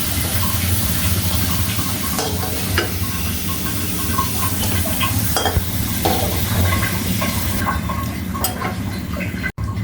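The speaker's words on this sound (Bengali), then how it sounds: "আলুগুলো ভাজি হয়ে গিয়েছে, নামিয়ে নেব।" Fried potatoes lifted out of a pan of hot oil, with a steady loud sizzle throughout, overlaid by occasional scraping and clinks of a spatula against the pan.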